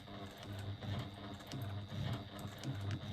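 A sewing machine stitches through layers under the presser foot, with a low rhythmic motor hum pulsing in short bursts and a faint mechanical ticking, heard close and alone.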